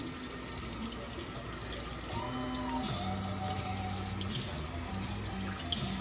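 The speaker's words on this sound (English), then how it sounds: "We are now rinsing the hearts of palm pasta, because that's what it says on the can to do." Canned hearts of palm pasta rinsed under a running kitchen tap, a steady, fairly soft stream of water splashing continuously with slight shifts in tone as the pieces move under it.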